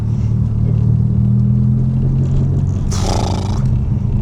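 A 480 bhp 1990s Mazda RX-7 rotary engine drones loudly and steadily up close, with a brief higher burst near the end as it shifts, no talk over it.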